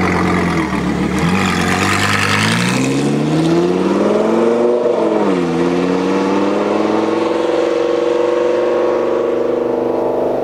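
A car engine revs and shifts, its pitch climbing and dipping as the vehicle accelerates past up close, then settles into a steady hum.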